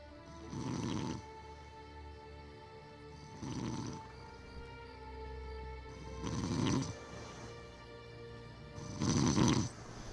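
Deep, rasping snores from a player come over voice chat in an Elder Scrolls Online stream: four long, loud breaths at a slow, steady rhythm, with no talking in between.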